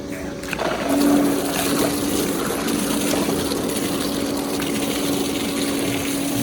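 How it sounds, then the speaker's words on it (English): An Intex pool filter pump running in backwash mode gives a steady motor hum with rushing, gushing water, close and constant after a brief start, with no speech over it. "I'm going to put it over to backwash, and I'm going to clean it for a little bit"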